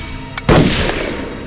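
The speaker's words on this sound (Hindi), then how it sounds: "उसने दूसरी गोली चलाई" A single sharp gunshot cracks loudly nearby, followed by a brief echoing tail that fades into the surroundings.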